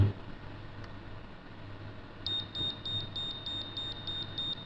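Sapphire crystal tester sounding on the glass of a Pagani Design Milgauss watch, a rapid series of high, evenly pulsed electronic beeps that starts partway in and continues steadily over faint background hiss.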